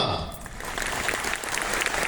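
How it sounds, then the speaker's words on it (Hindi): Applause from an audience at a direct selling business seminar, a bright burst of many hands clapping that swells briefly and stays steady, with a faint voice underneath at the start. "तालियां।"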